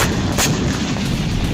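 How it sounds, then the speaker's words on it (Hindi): An Israeli air strike in southern Lebanon heard as loud, sustained low rumbling blast noise with a brief sharper crack near the start, dense and continuous throughout. "रात के वक्त इजरायली फाइटर जेट्स ने बम गिराए, जिसके बाद जबरदस्त धमाका हुआ।"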